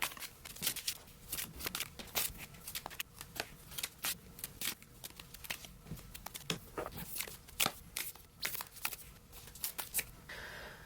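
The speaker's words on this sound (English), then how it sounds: "I got a lot of positive feedback about the sped up shuffling" Rapid, crisp riffling of tarot cards, sped up, repeats in quick bursts, a fast flurry of papery snaps and flutters at close range with no talking.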